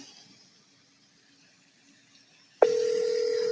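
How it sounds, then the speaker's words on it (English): An outgoing phone call starts with a steady, loud electronic ring or dial tone that begins abruptly after near silence and holds on without a break. "Let me see if I can get Hero on the phone"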